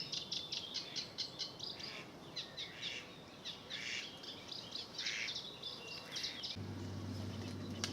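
A sedge warbler sings a rapid, chattering song of repeated bursts outdoors, with a low steady hum joining near the end.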